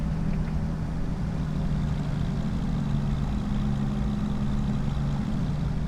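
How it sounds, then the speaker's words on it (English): A truck-like tractor engine runs at a steady, loud, low rumbling idle throughout, close by and unbroken, with no talk. "man, I love the sound of this truck."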